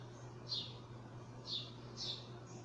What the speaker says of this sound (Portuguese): Olha lá, eles estão cantando, os pardais.